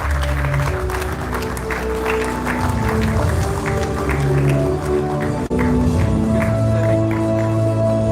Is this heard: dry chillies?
no